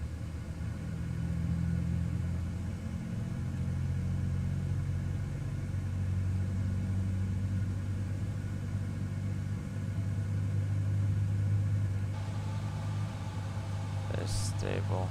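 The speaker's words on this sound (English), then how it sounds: "we'll get this engine to start going" A PMDG 777-200ER jet engine spooling up during start in Microsoft Flight Simulator, a steady low drone with a rising whine that builds and holds, with brief clicks near the end.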